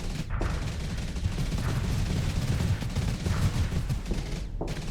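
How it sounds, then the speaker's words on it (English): Canister flak in the Starsector space video game firing at incoming missiles, a dense, relentless barrage of rapid booming bursts that runs without a break. "the canister flak is dealing with the missiles coming in"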